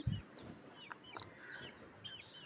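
Young chickens bought as chicks, some of them sick, giving a few faint, soft clucks and peeps at a distance over quiet background noise.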